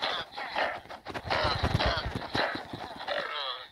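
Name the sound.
horse in the video game Minecraft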